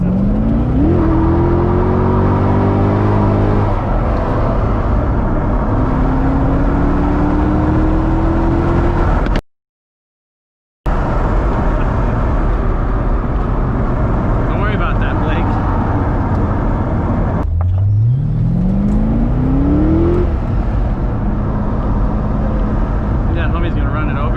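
A wrecked C6 Corvette Z06 with a big cam revs hard through its gears, pitch climbing with each pull and quick automatic throttle blips on the downshifts, loud and close, with a brief dropout and someone talking over it.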